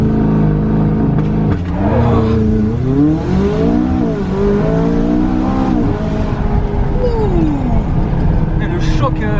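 A Stage 2 tuned 790 hp McLaren running on ethanol makes a loud, close launch-control start, its engine note climbing and dropping repeatedly through gear changes under hard acceleration.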